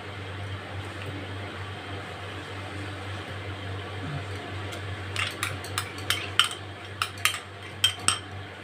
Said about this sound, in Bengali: এবার এটাতে আমি দই মেশাবো।